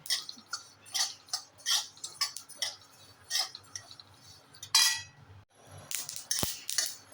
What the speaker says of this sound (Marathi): आपण तीळ आणि ओवा हे एकत्र भाजून घ्यायचे आहे